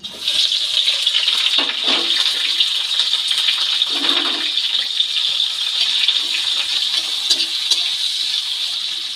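Chopped green chilli, garlic and onion fry in oil with a constant loud sizzling hiss, broken by occasional bursts of crackle and spatter, no voices.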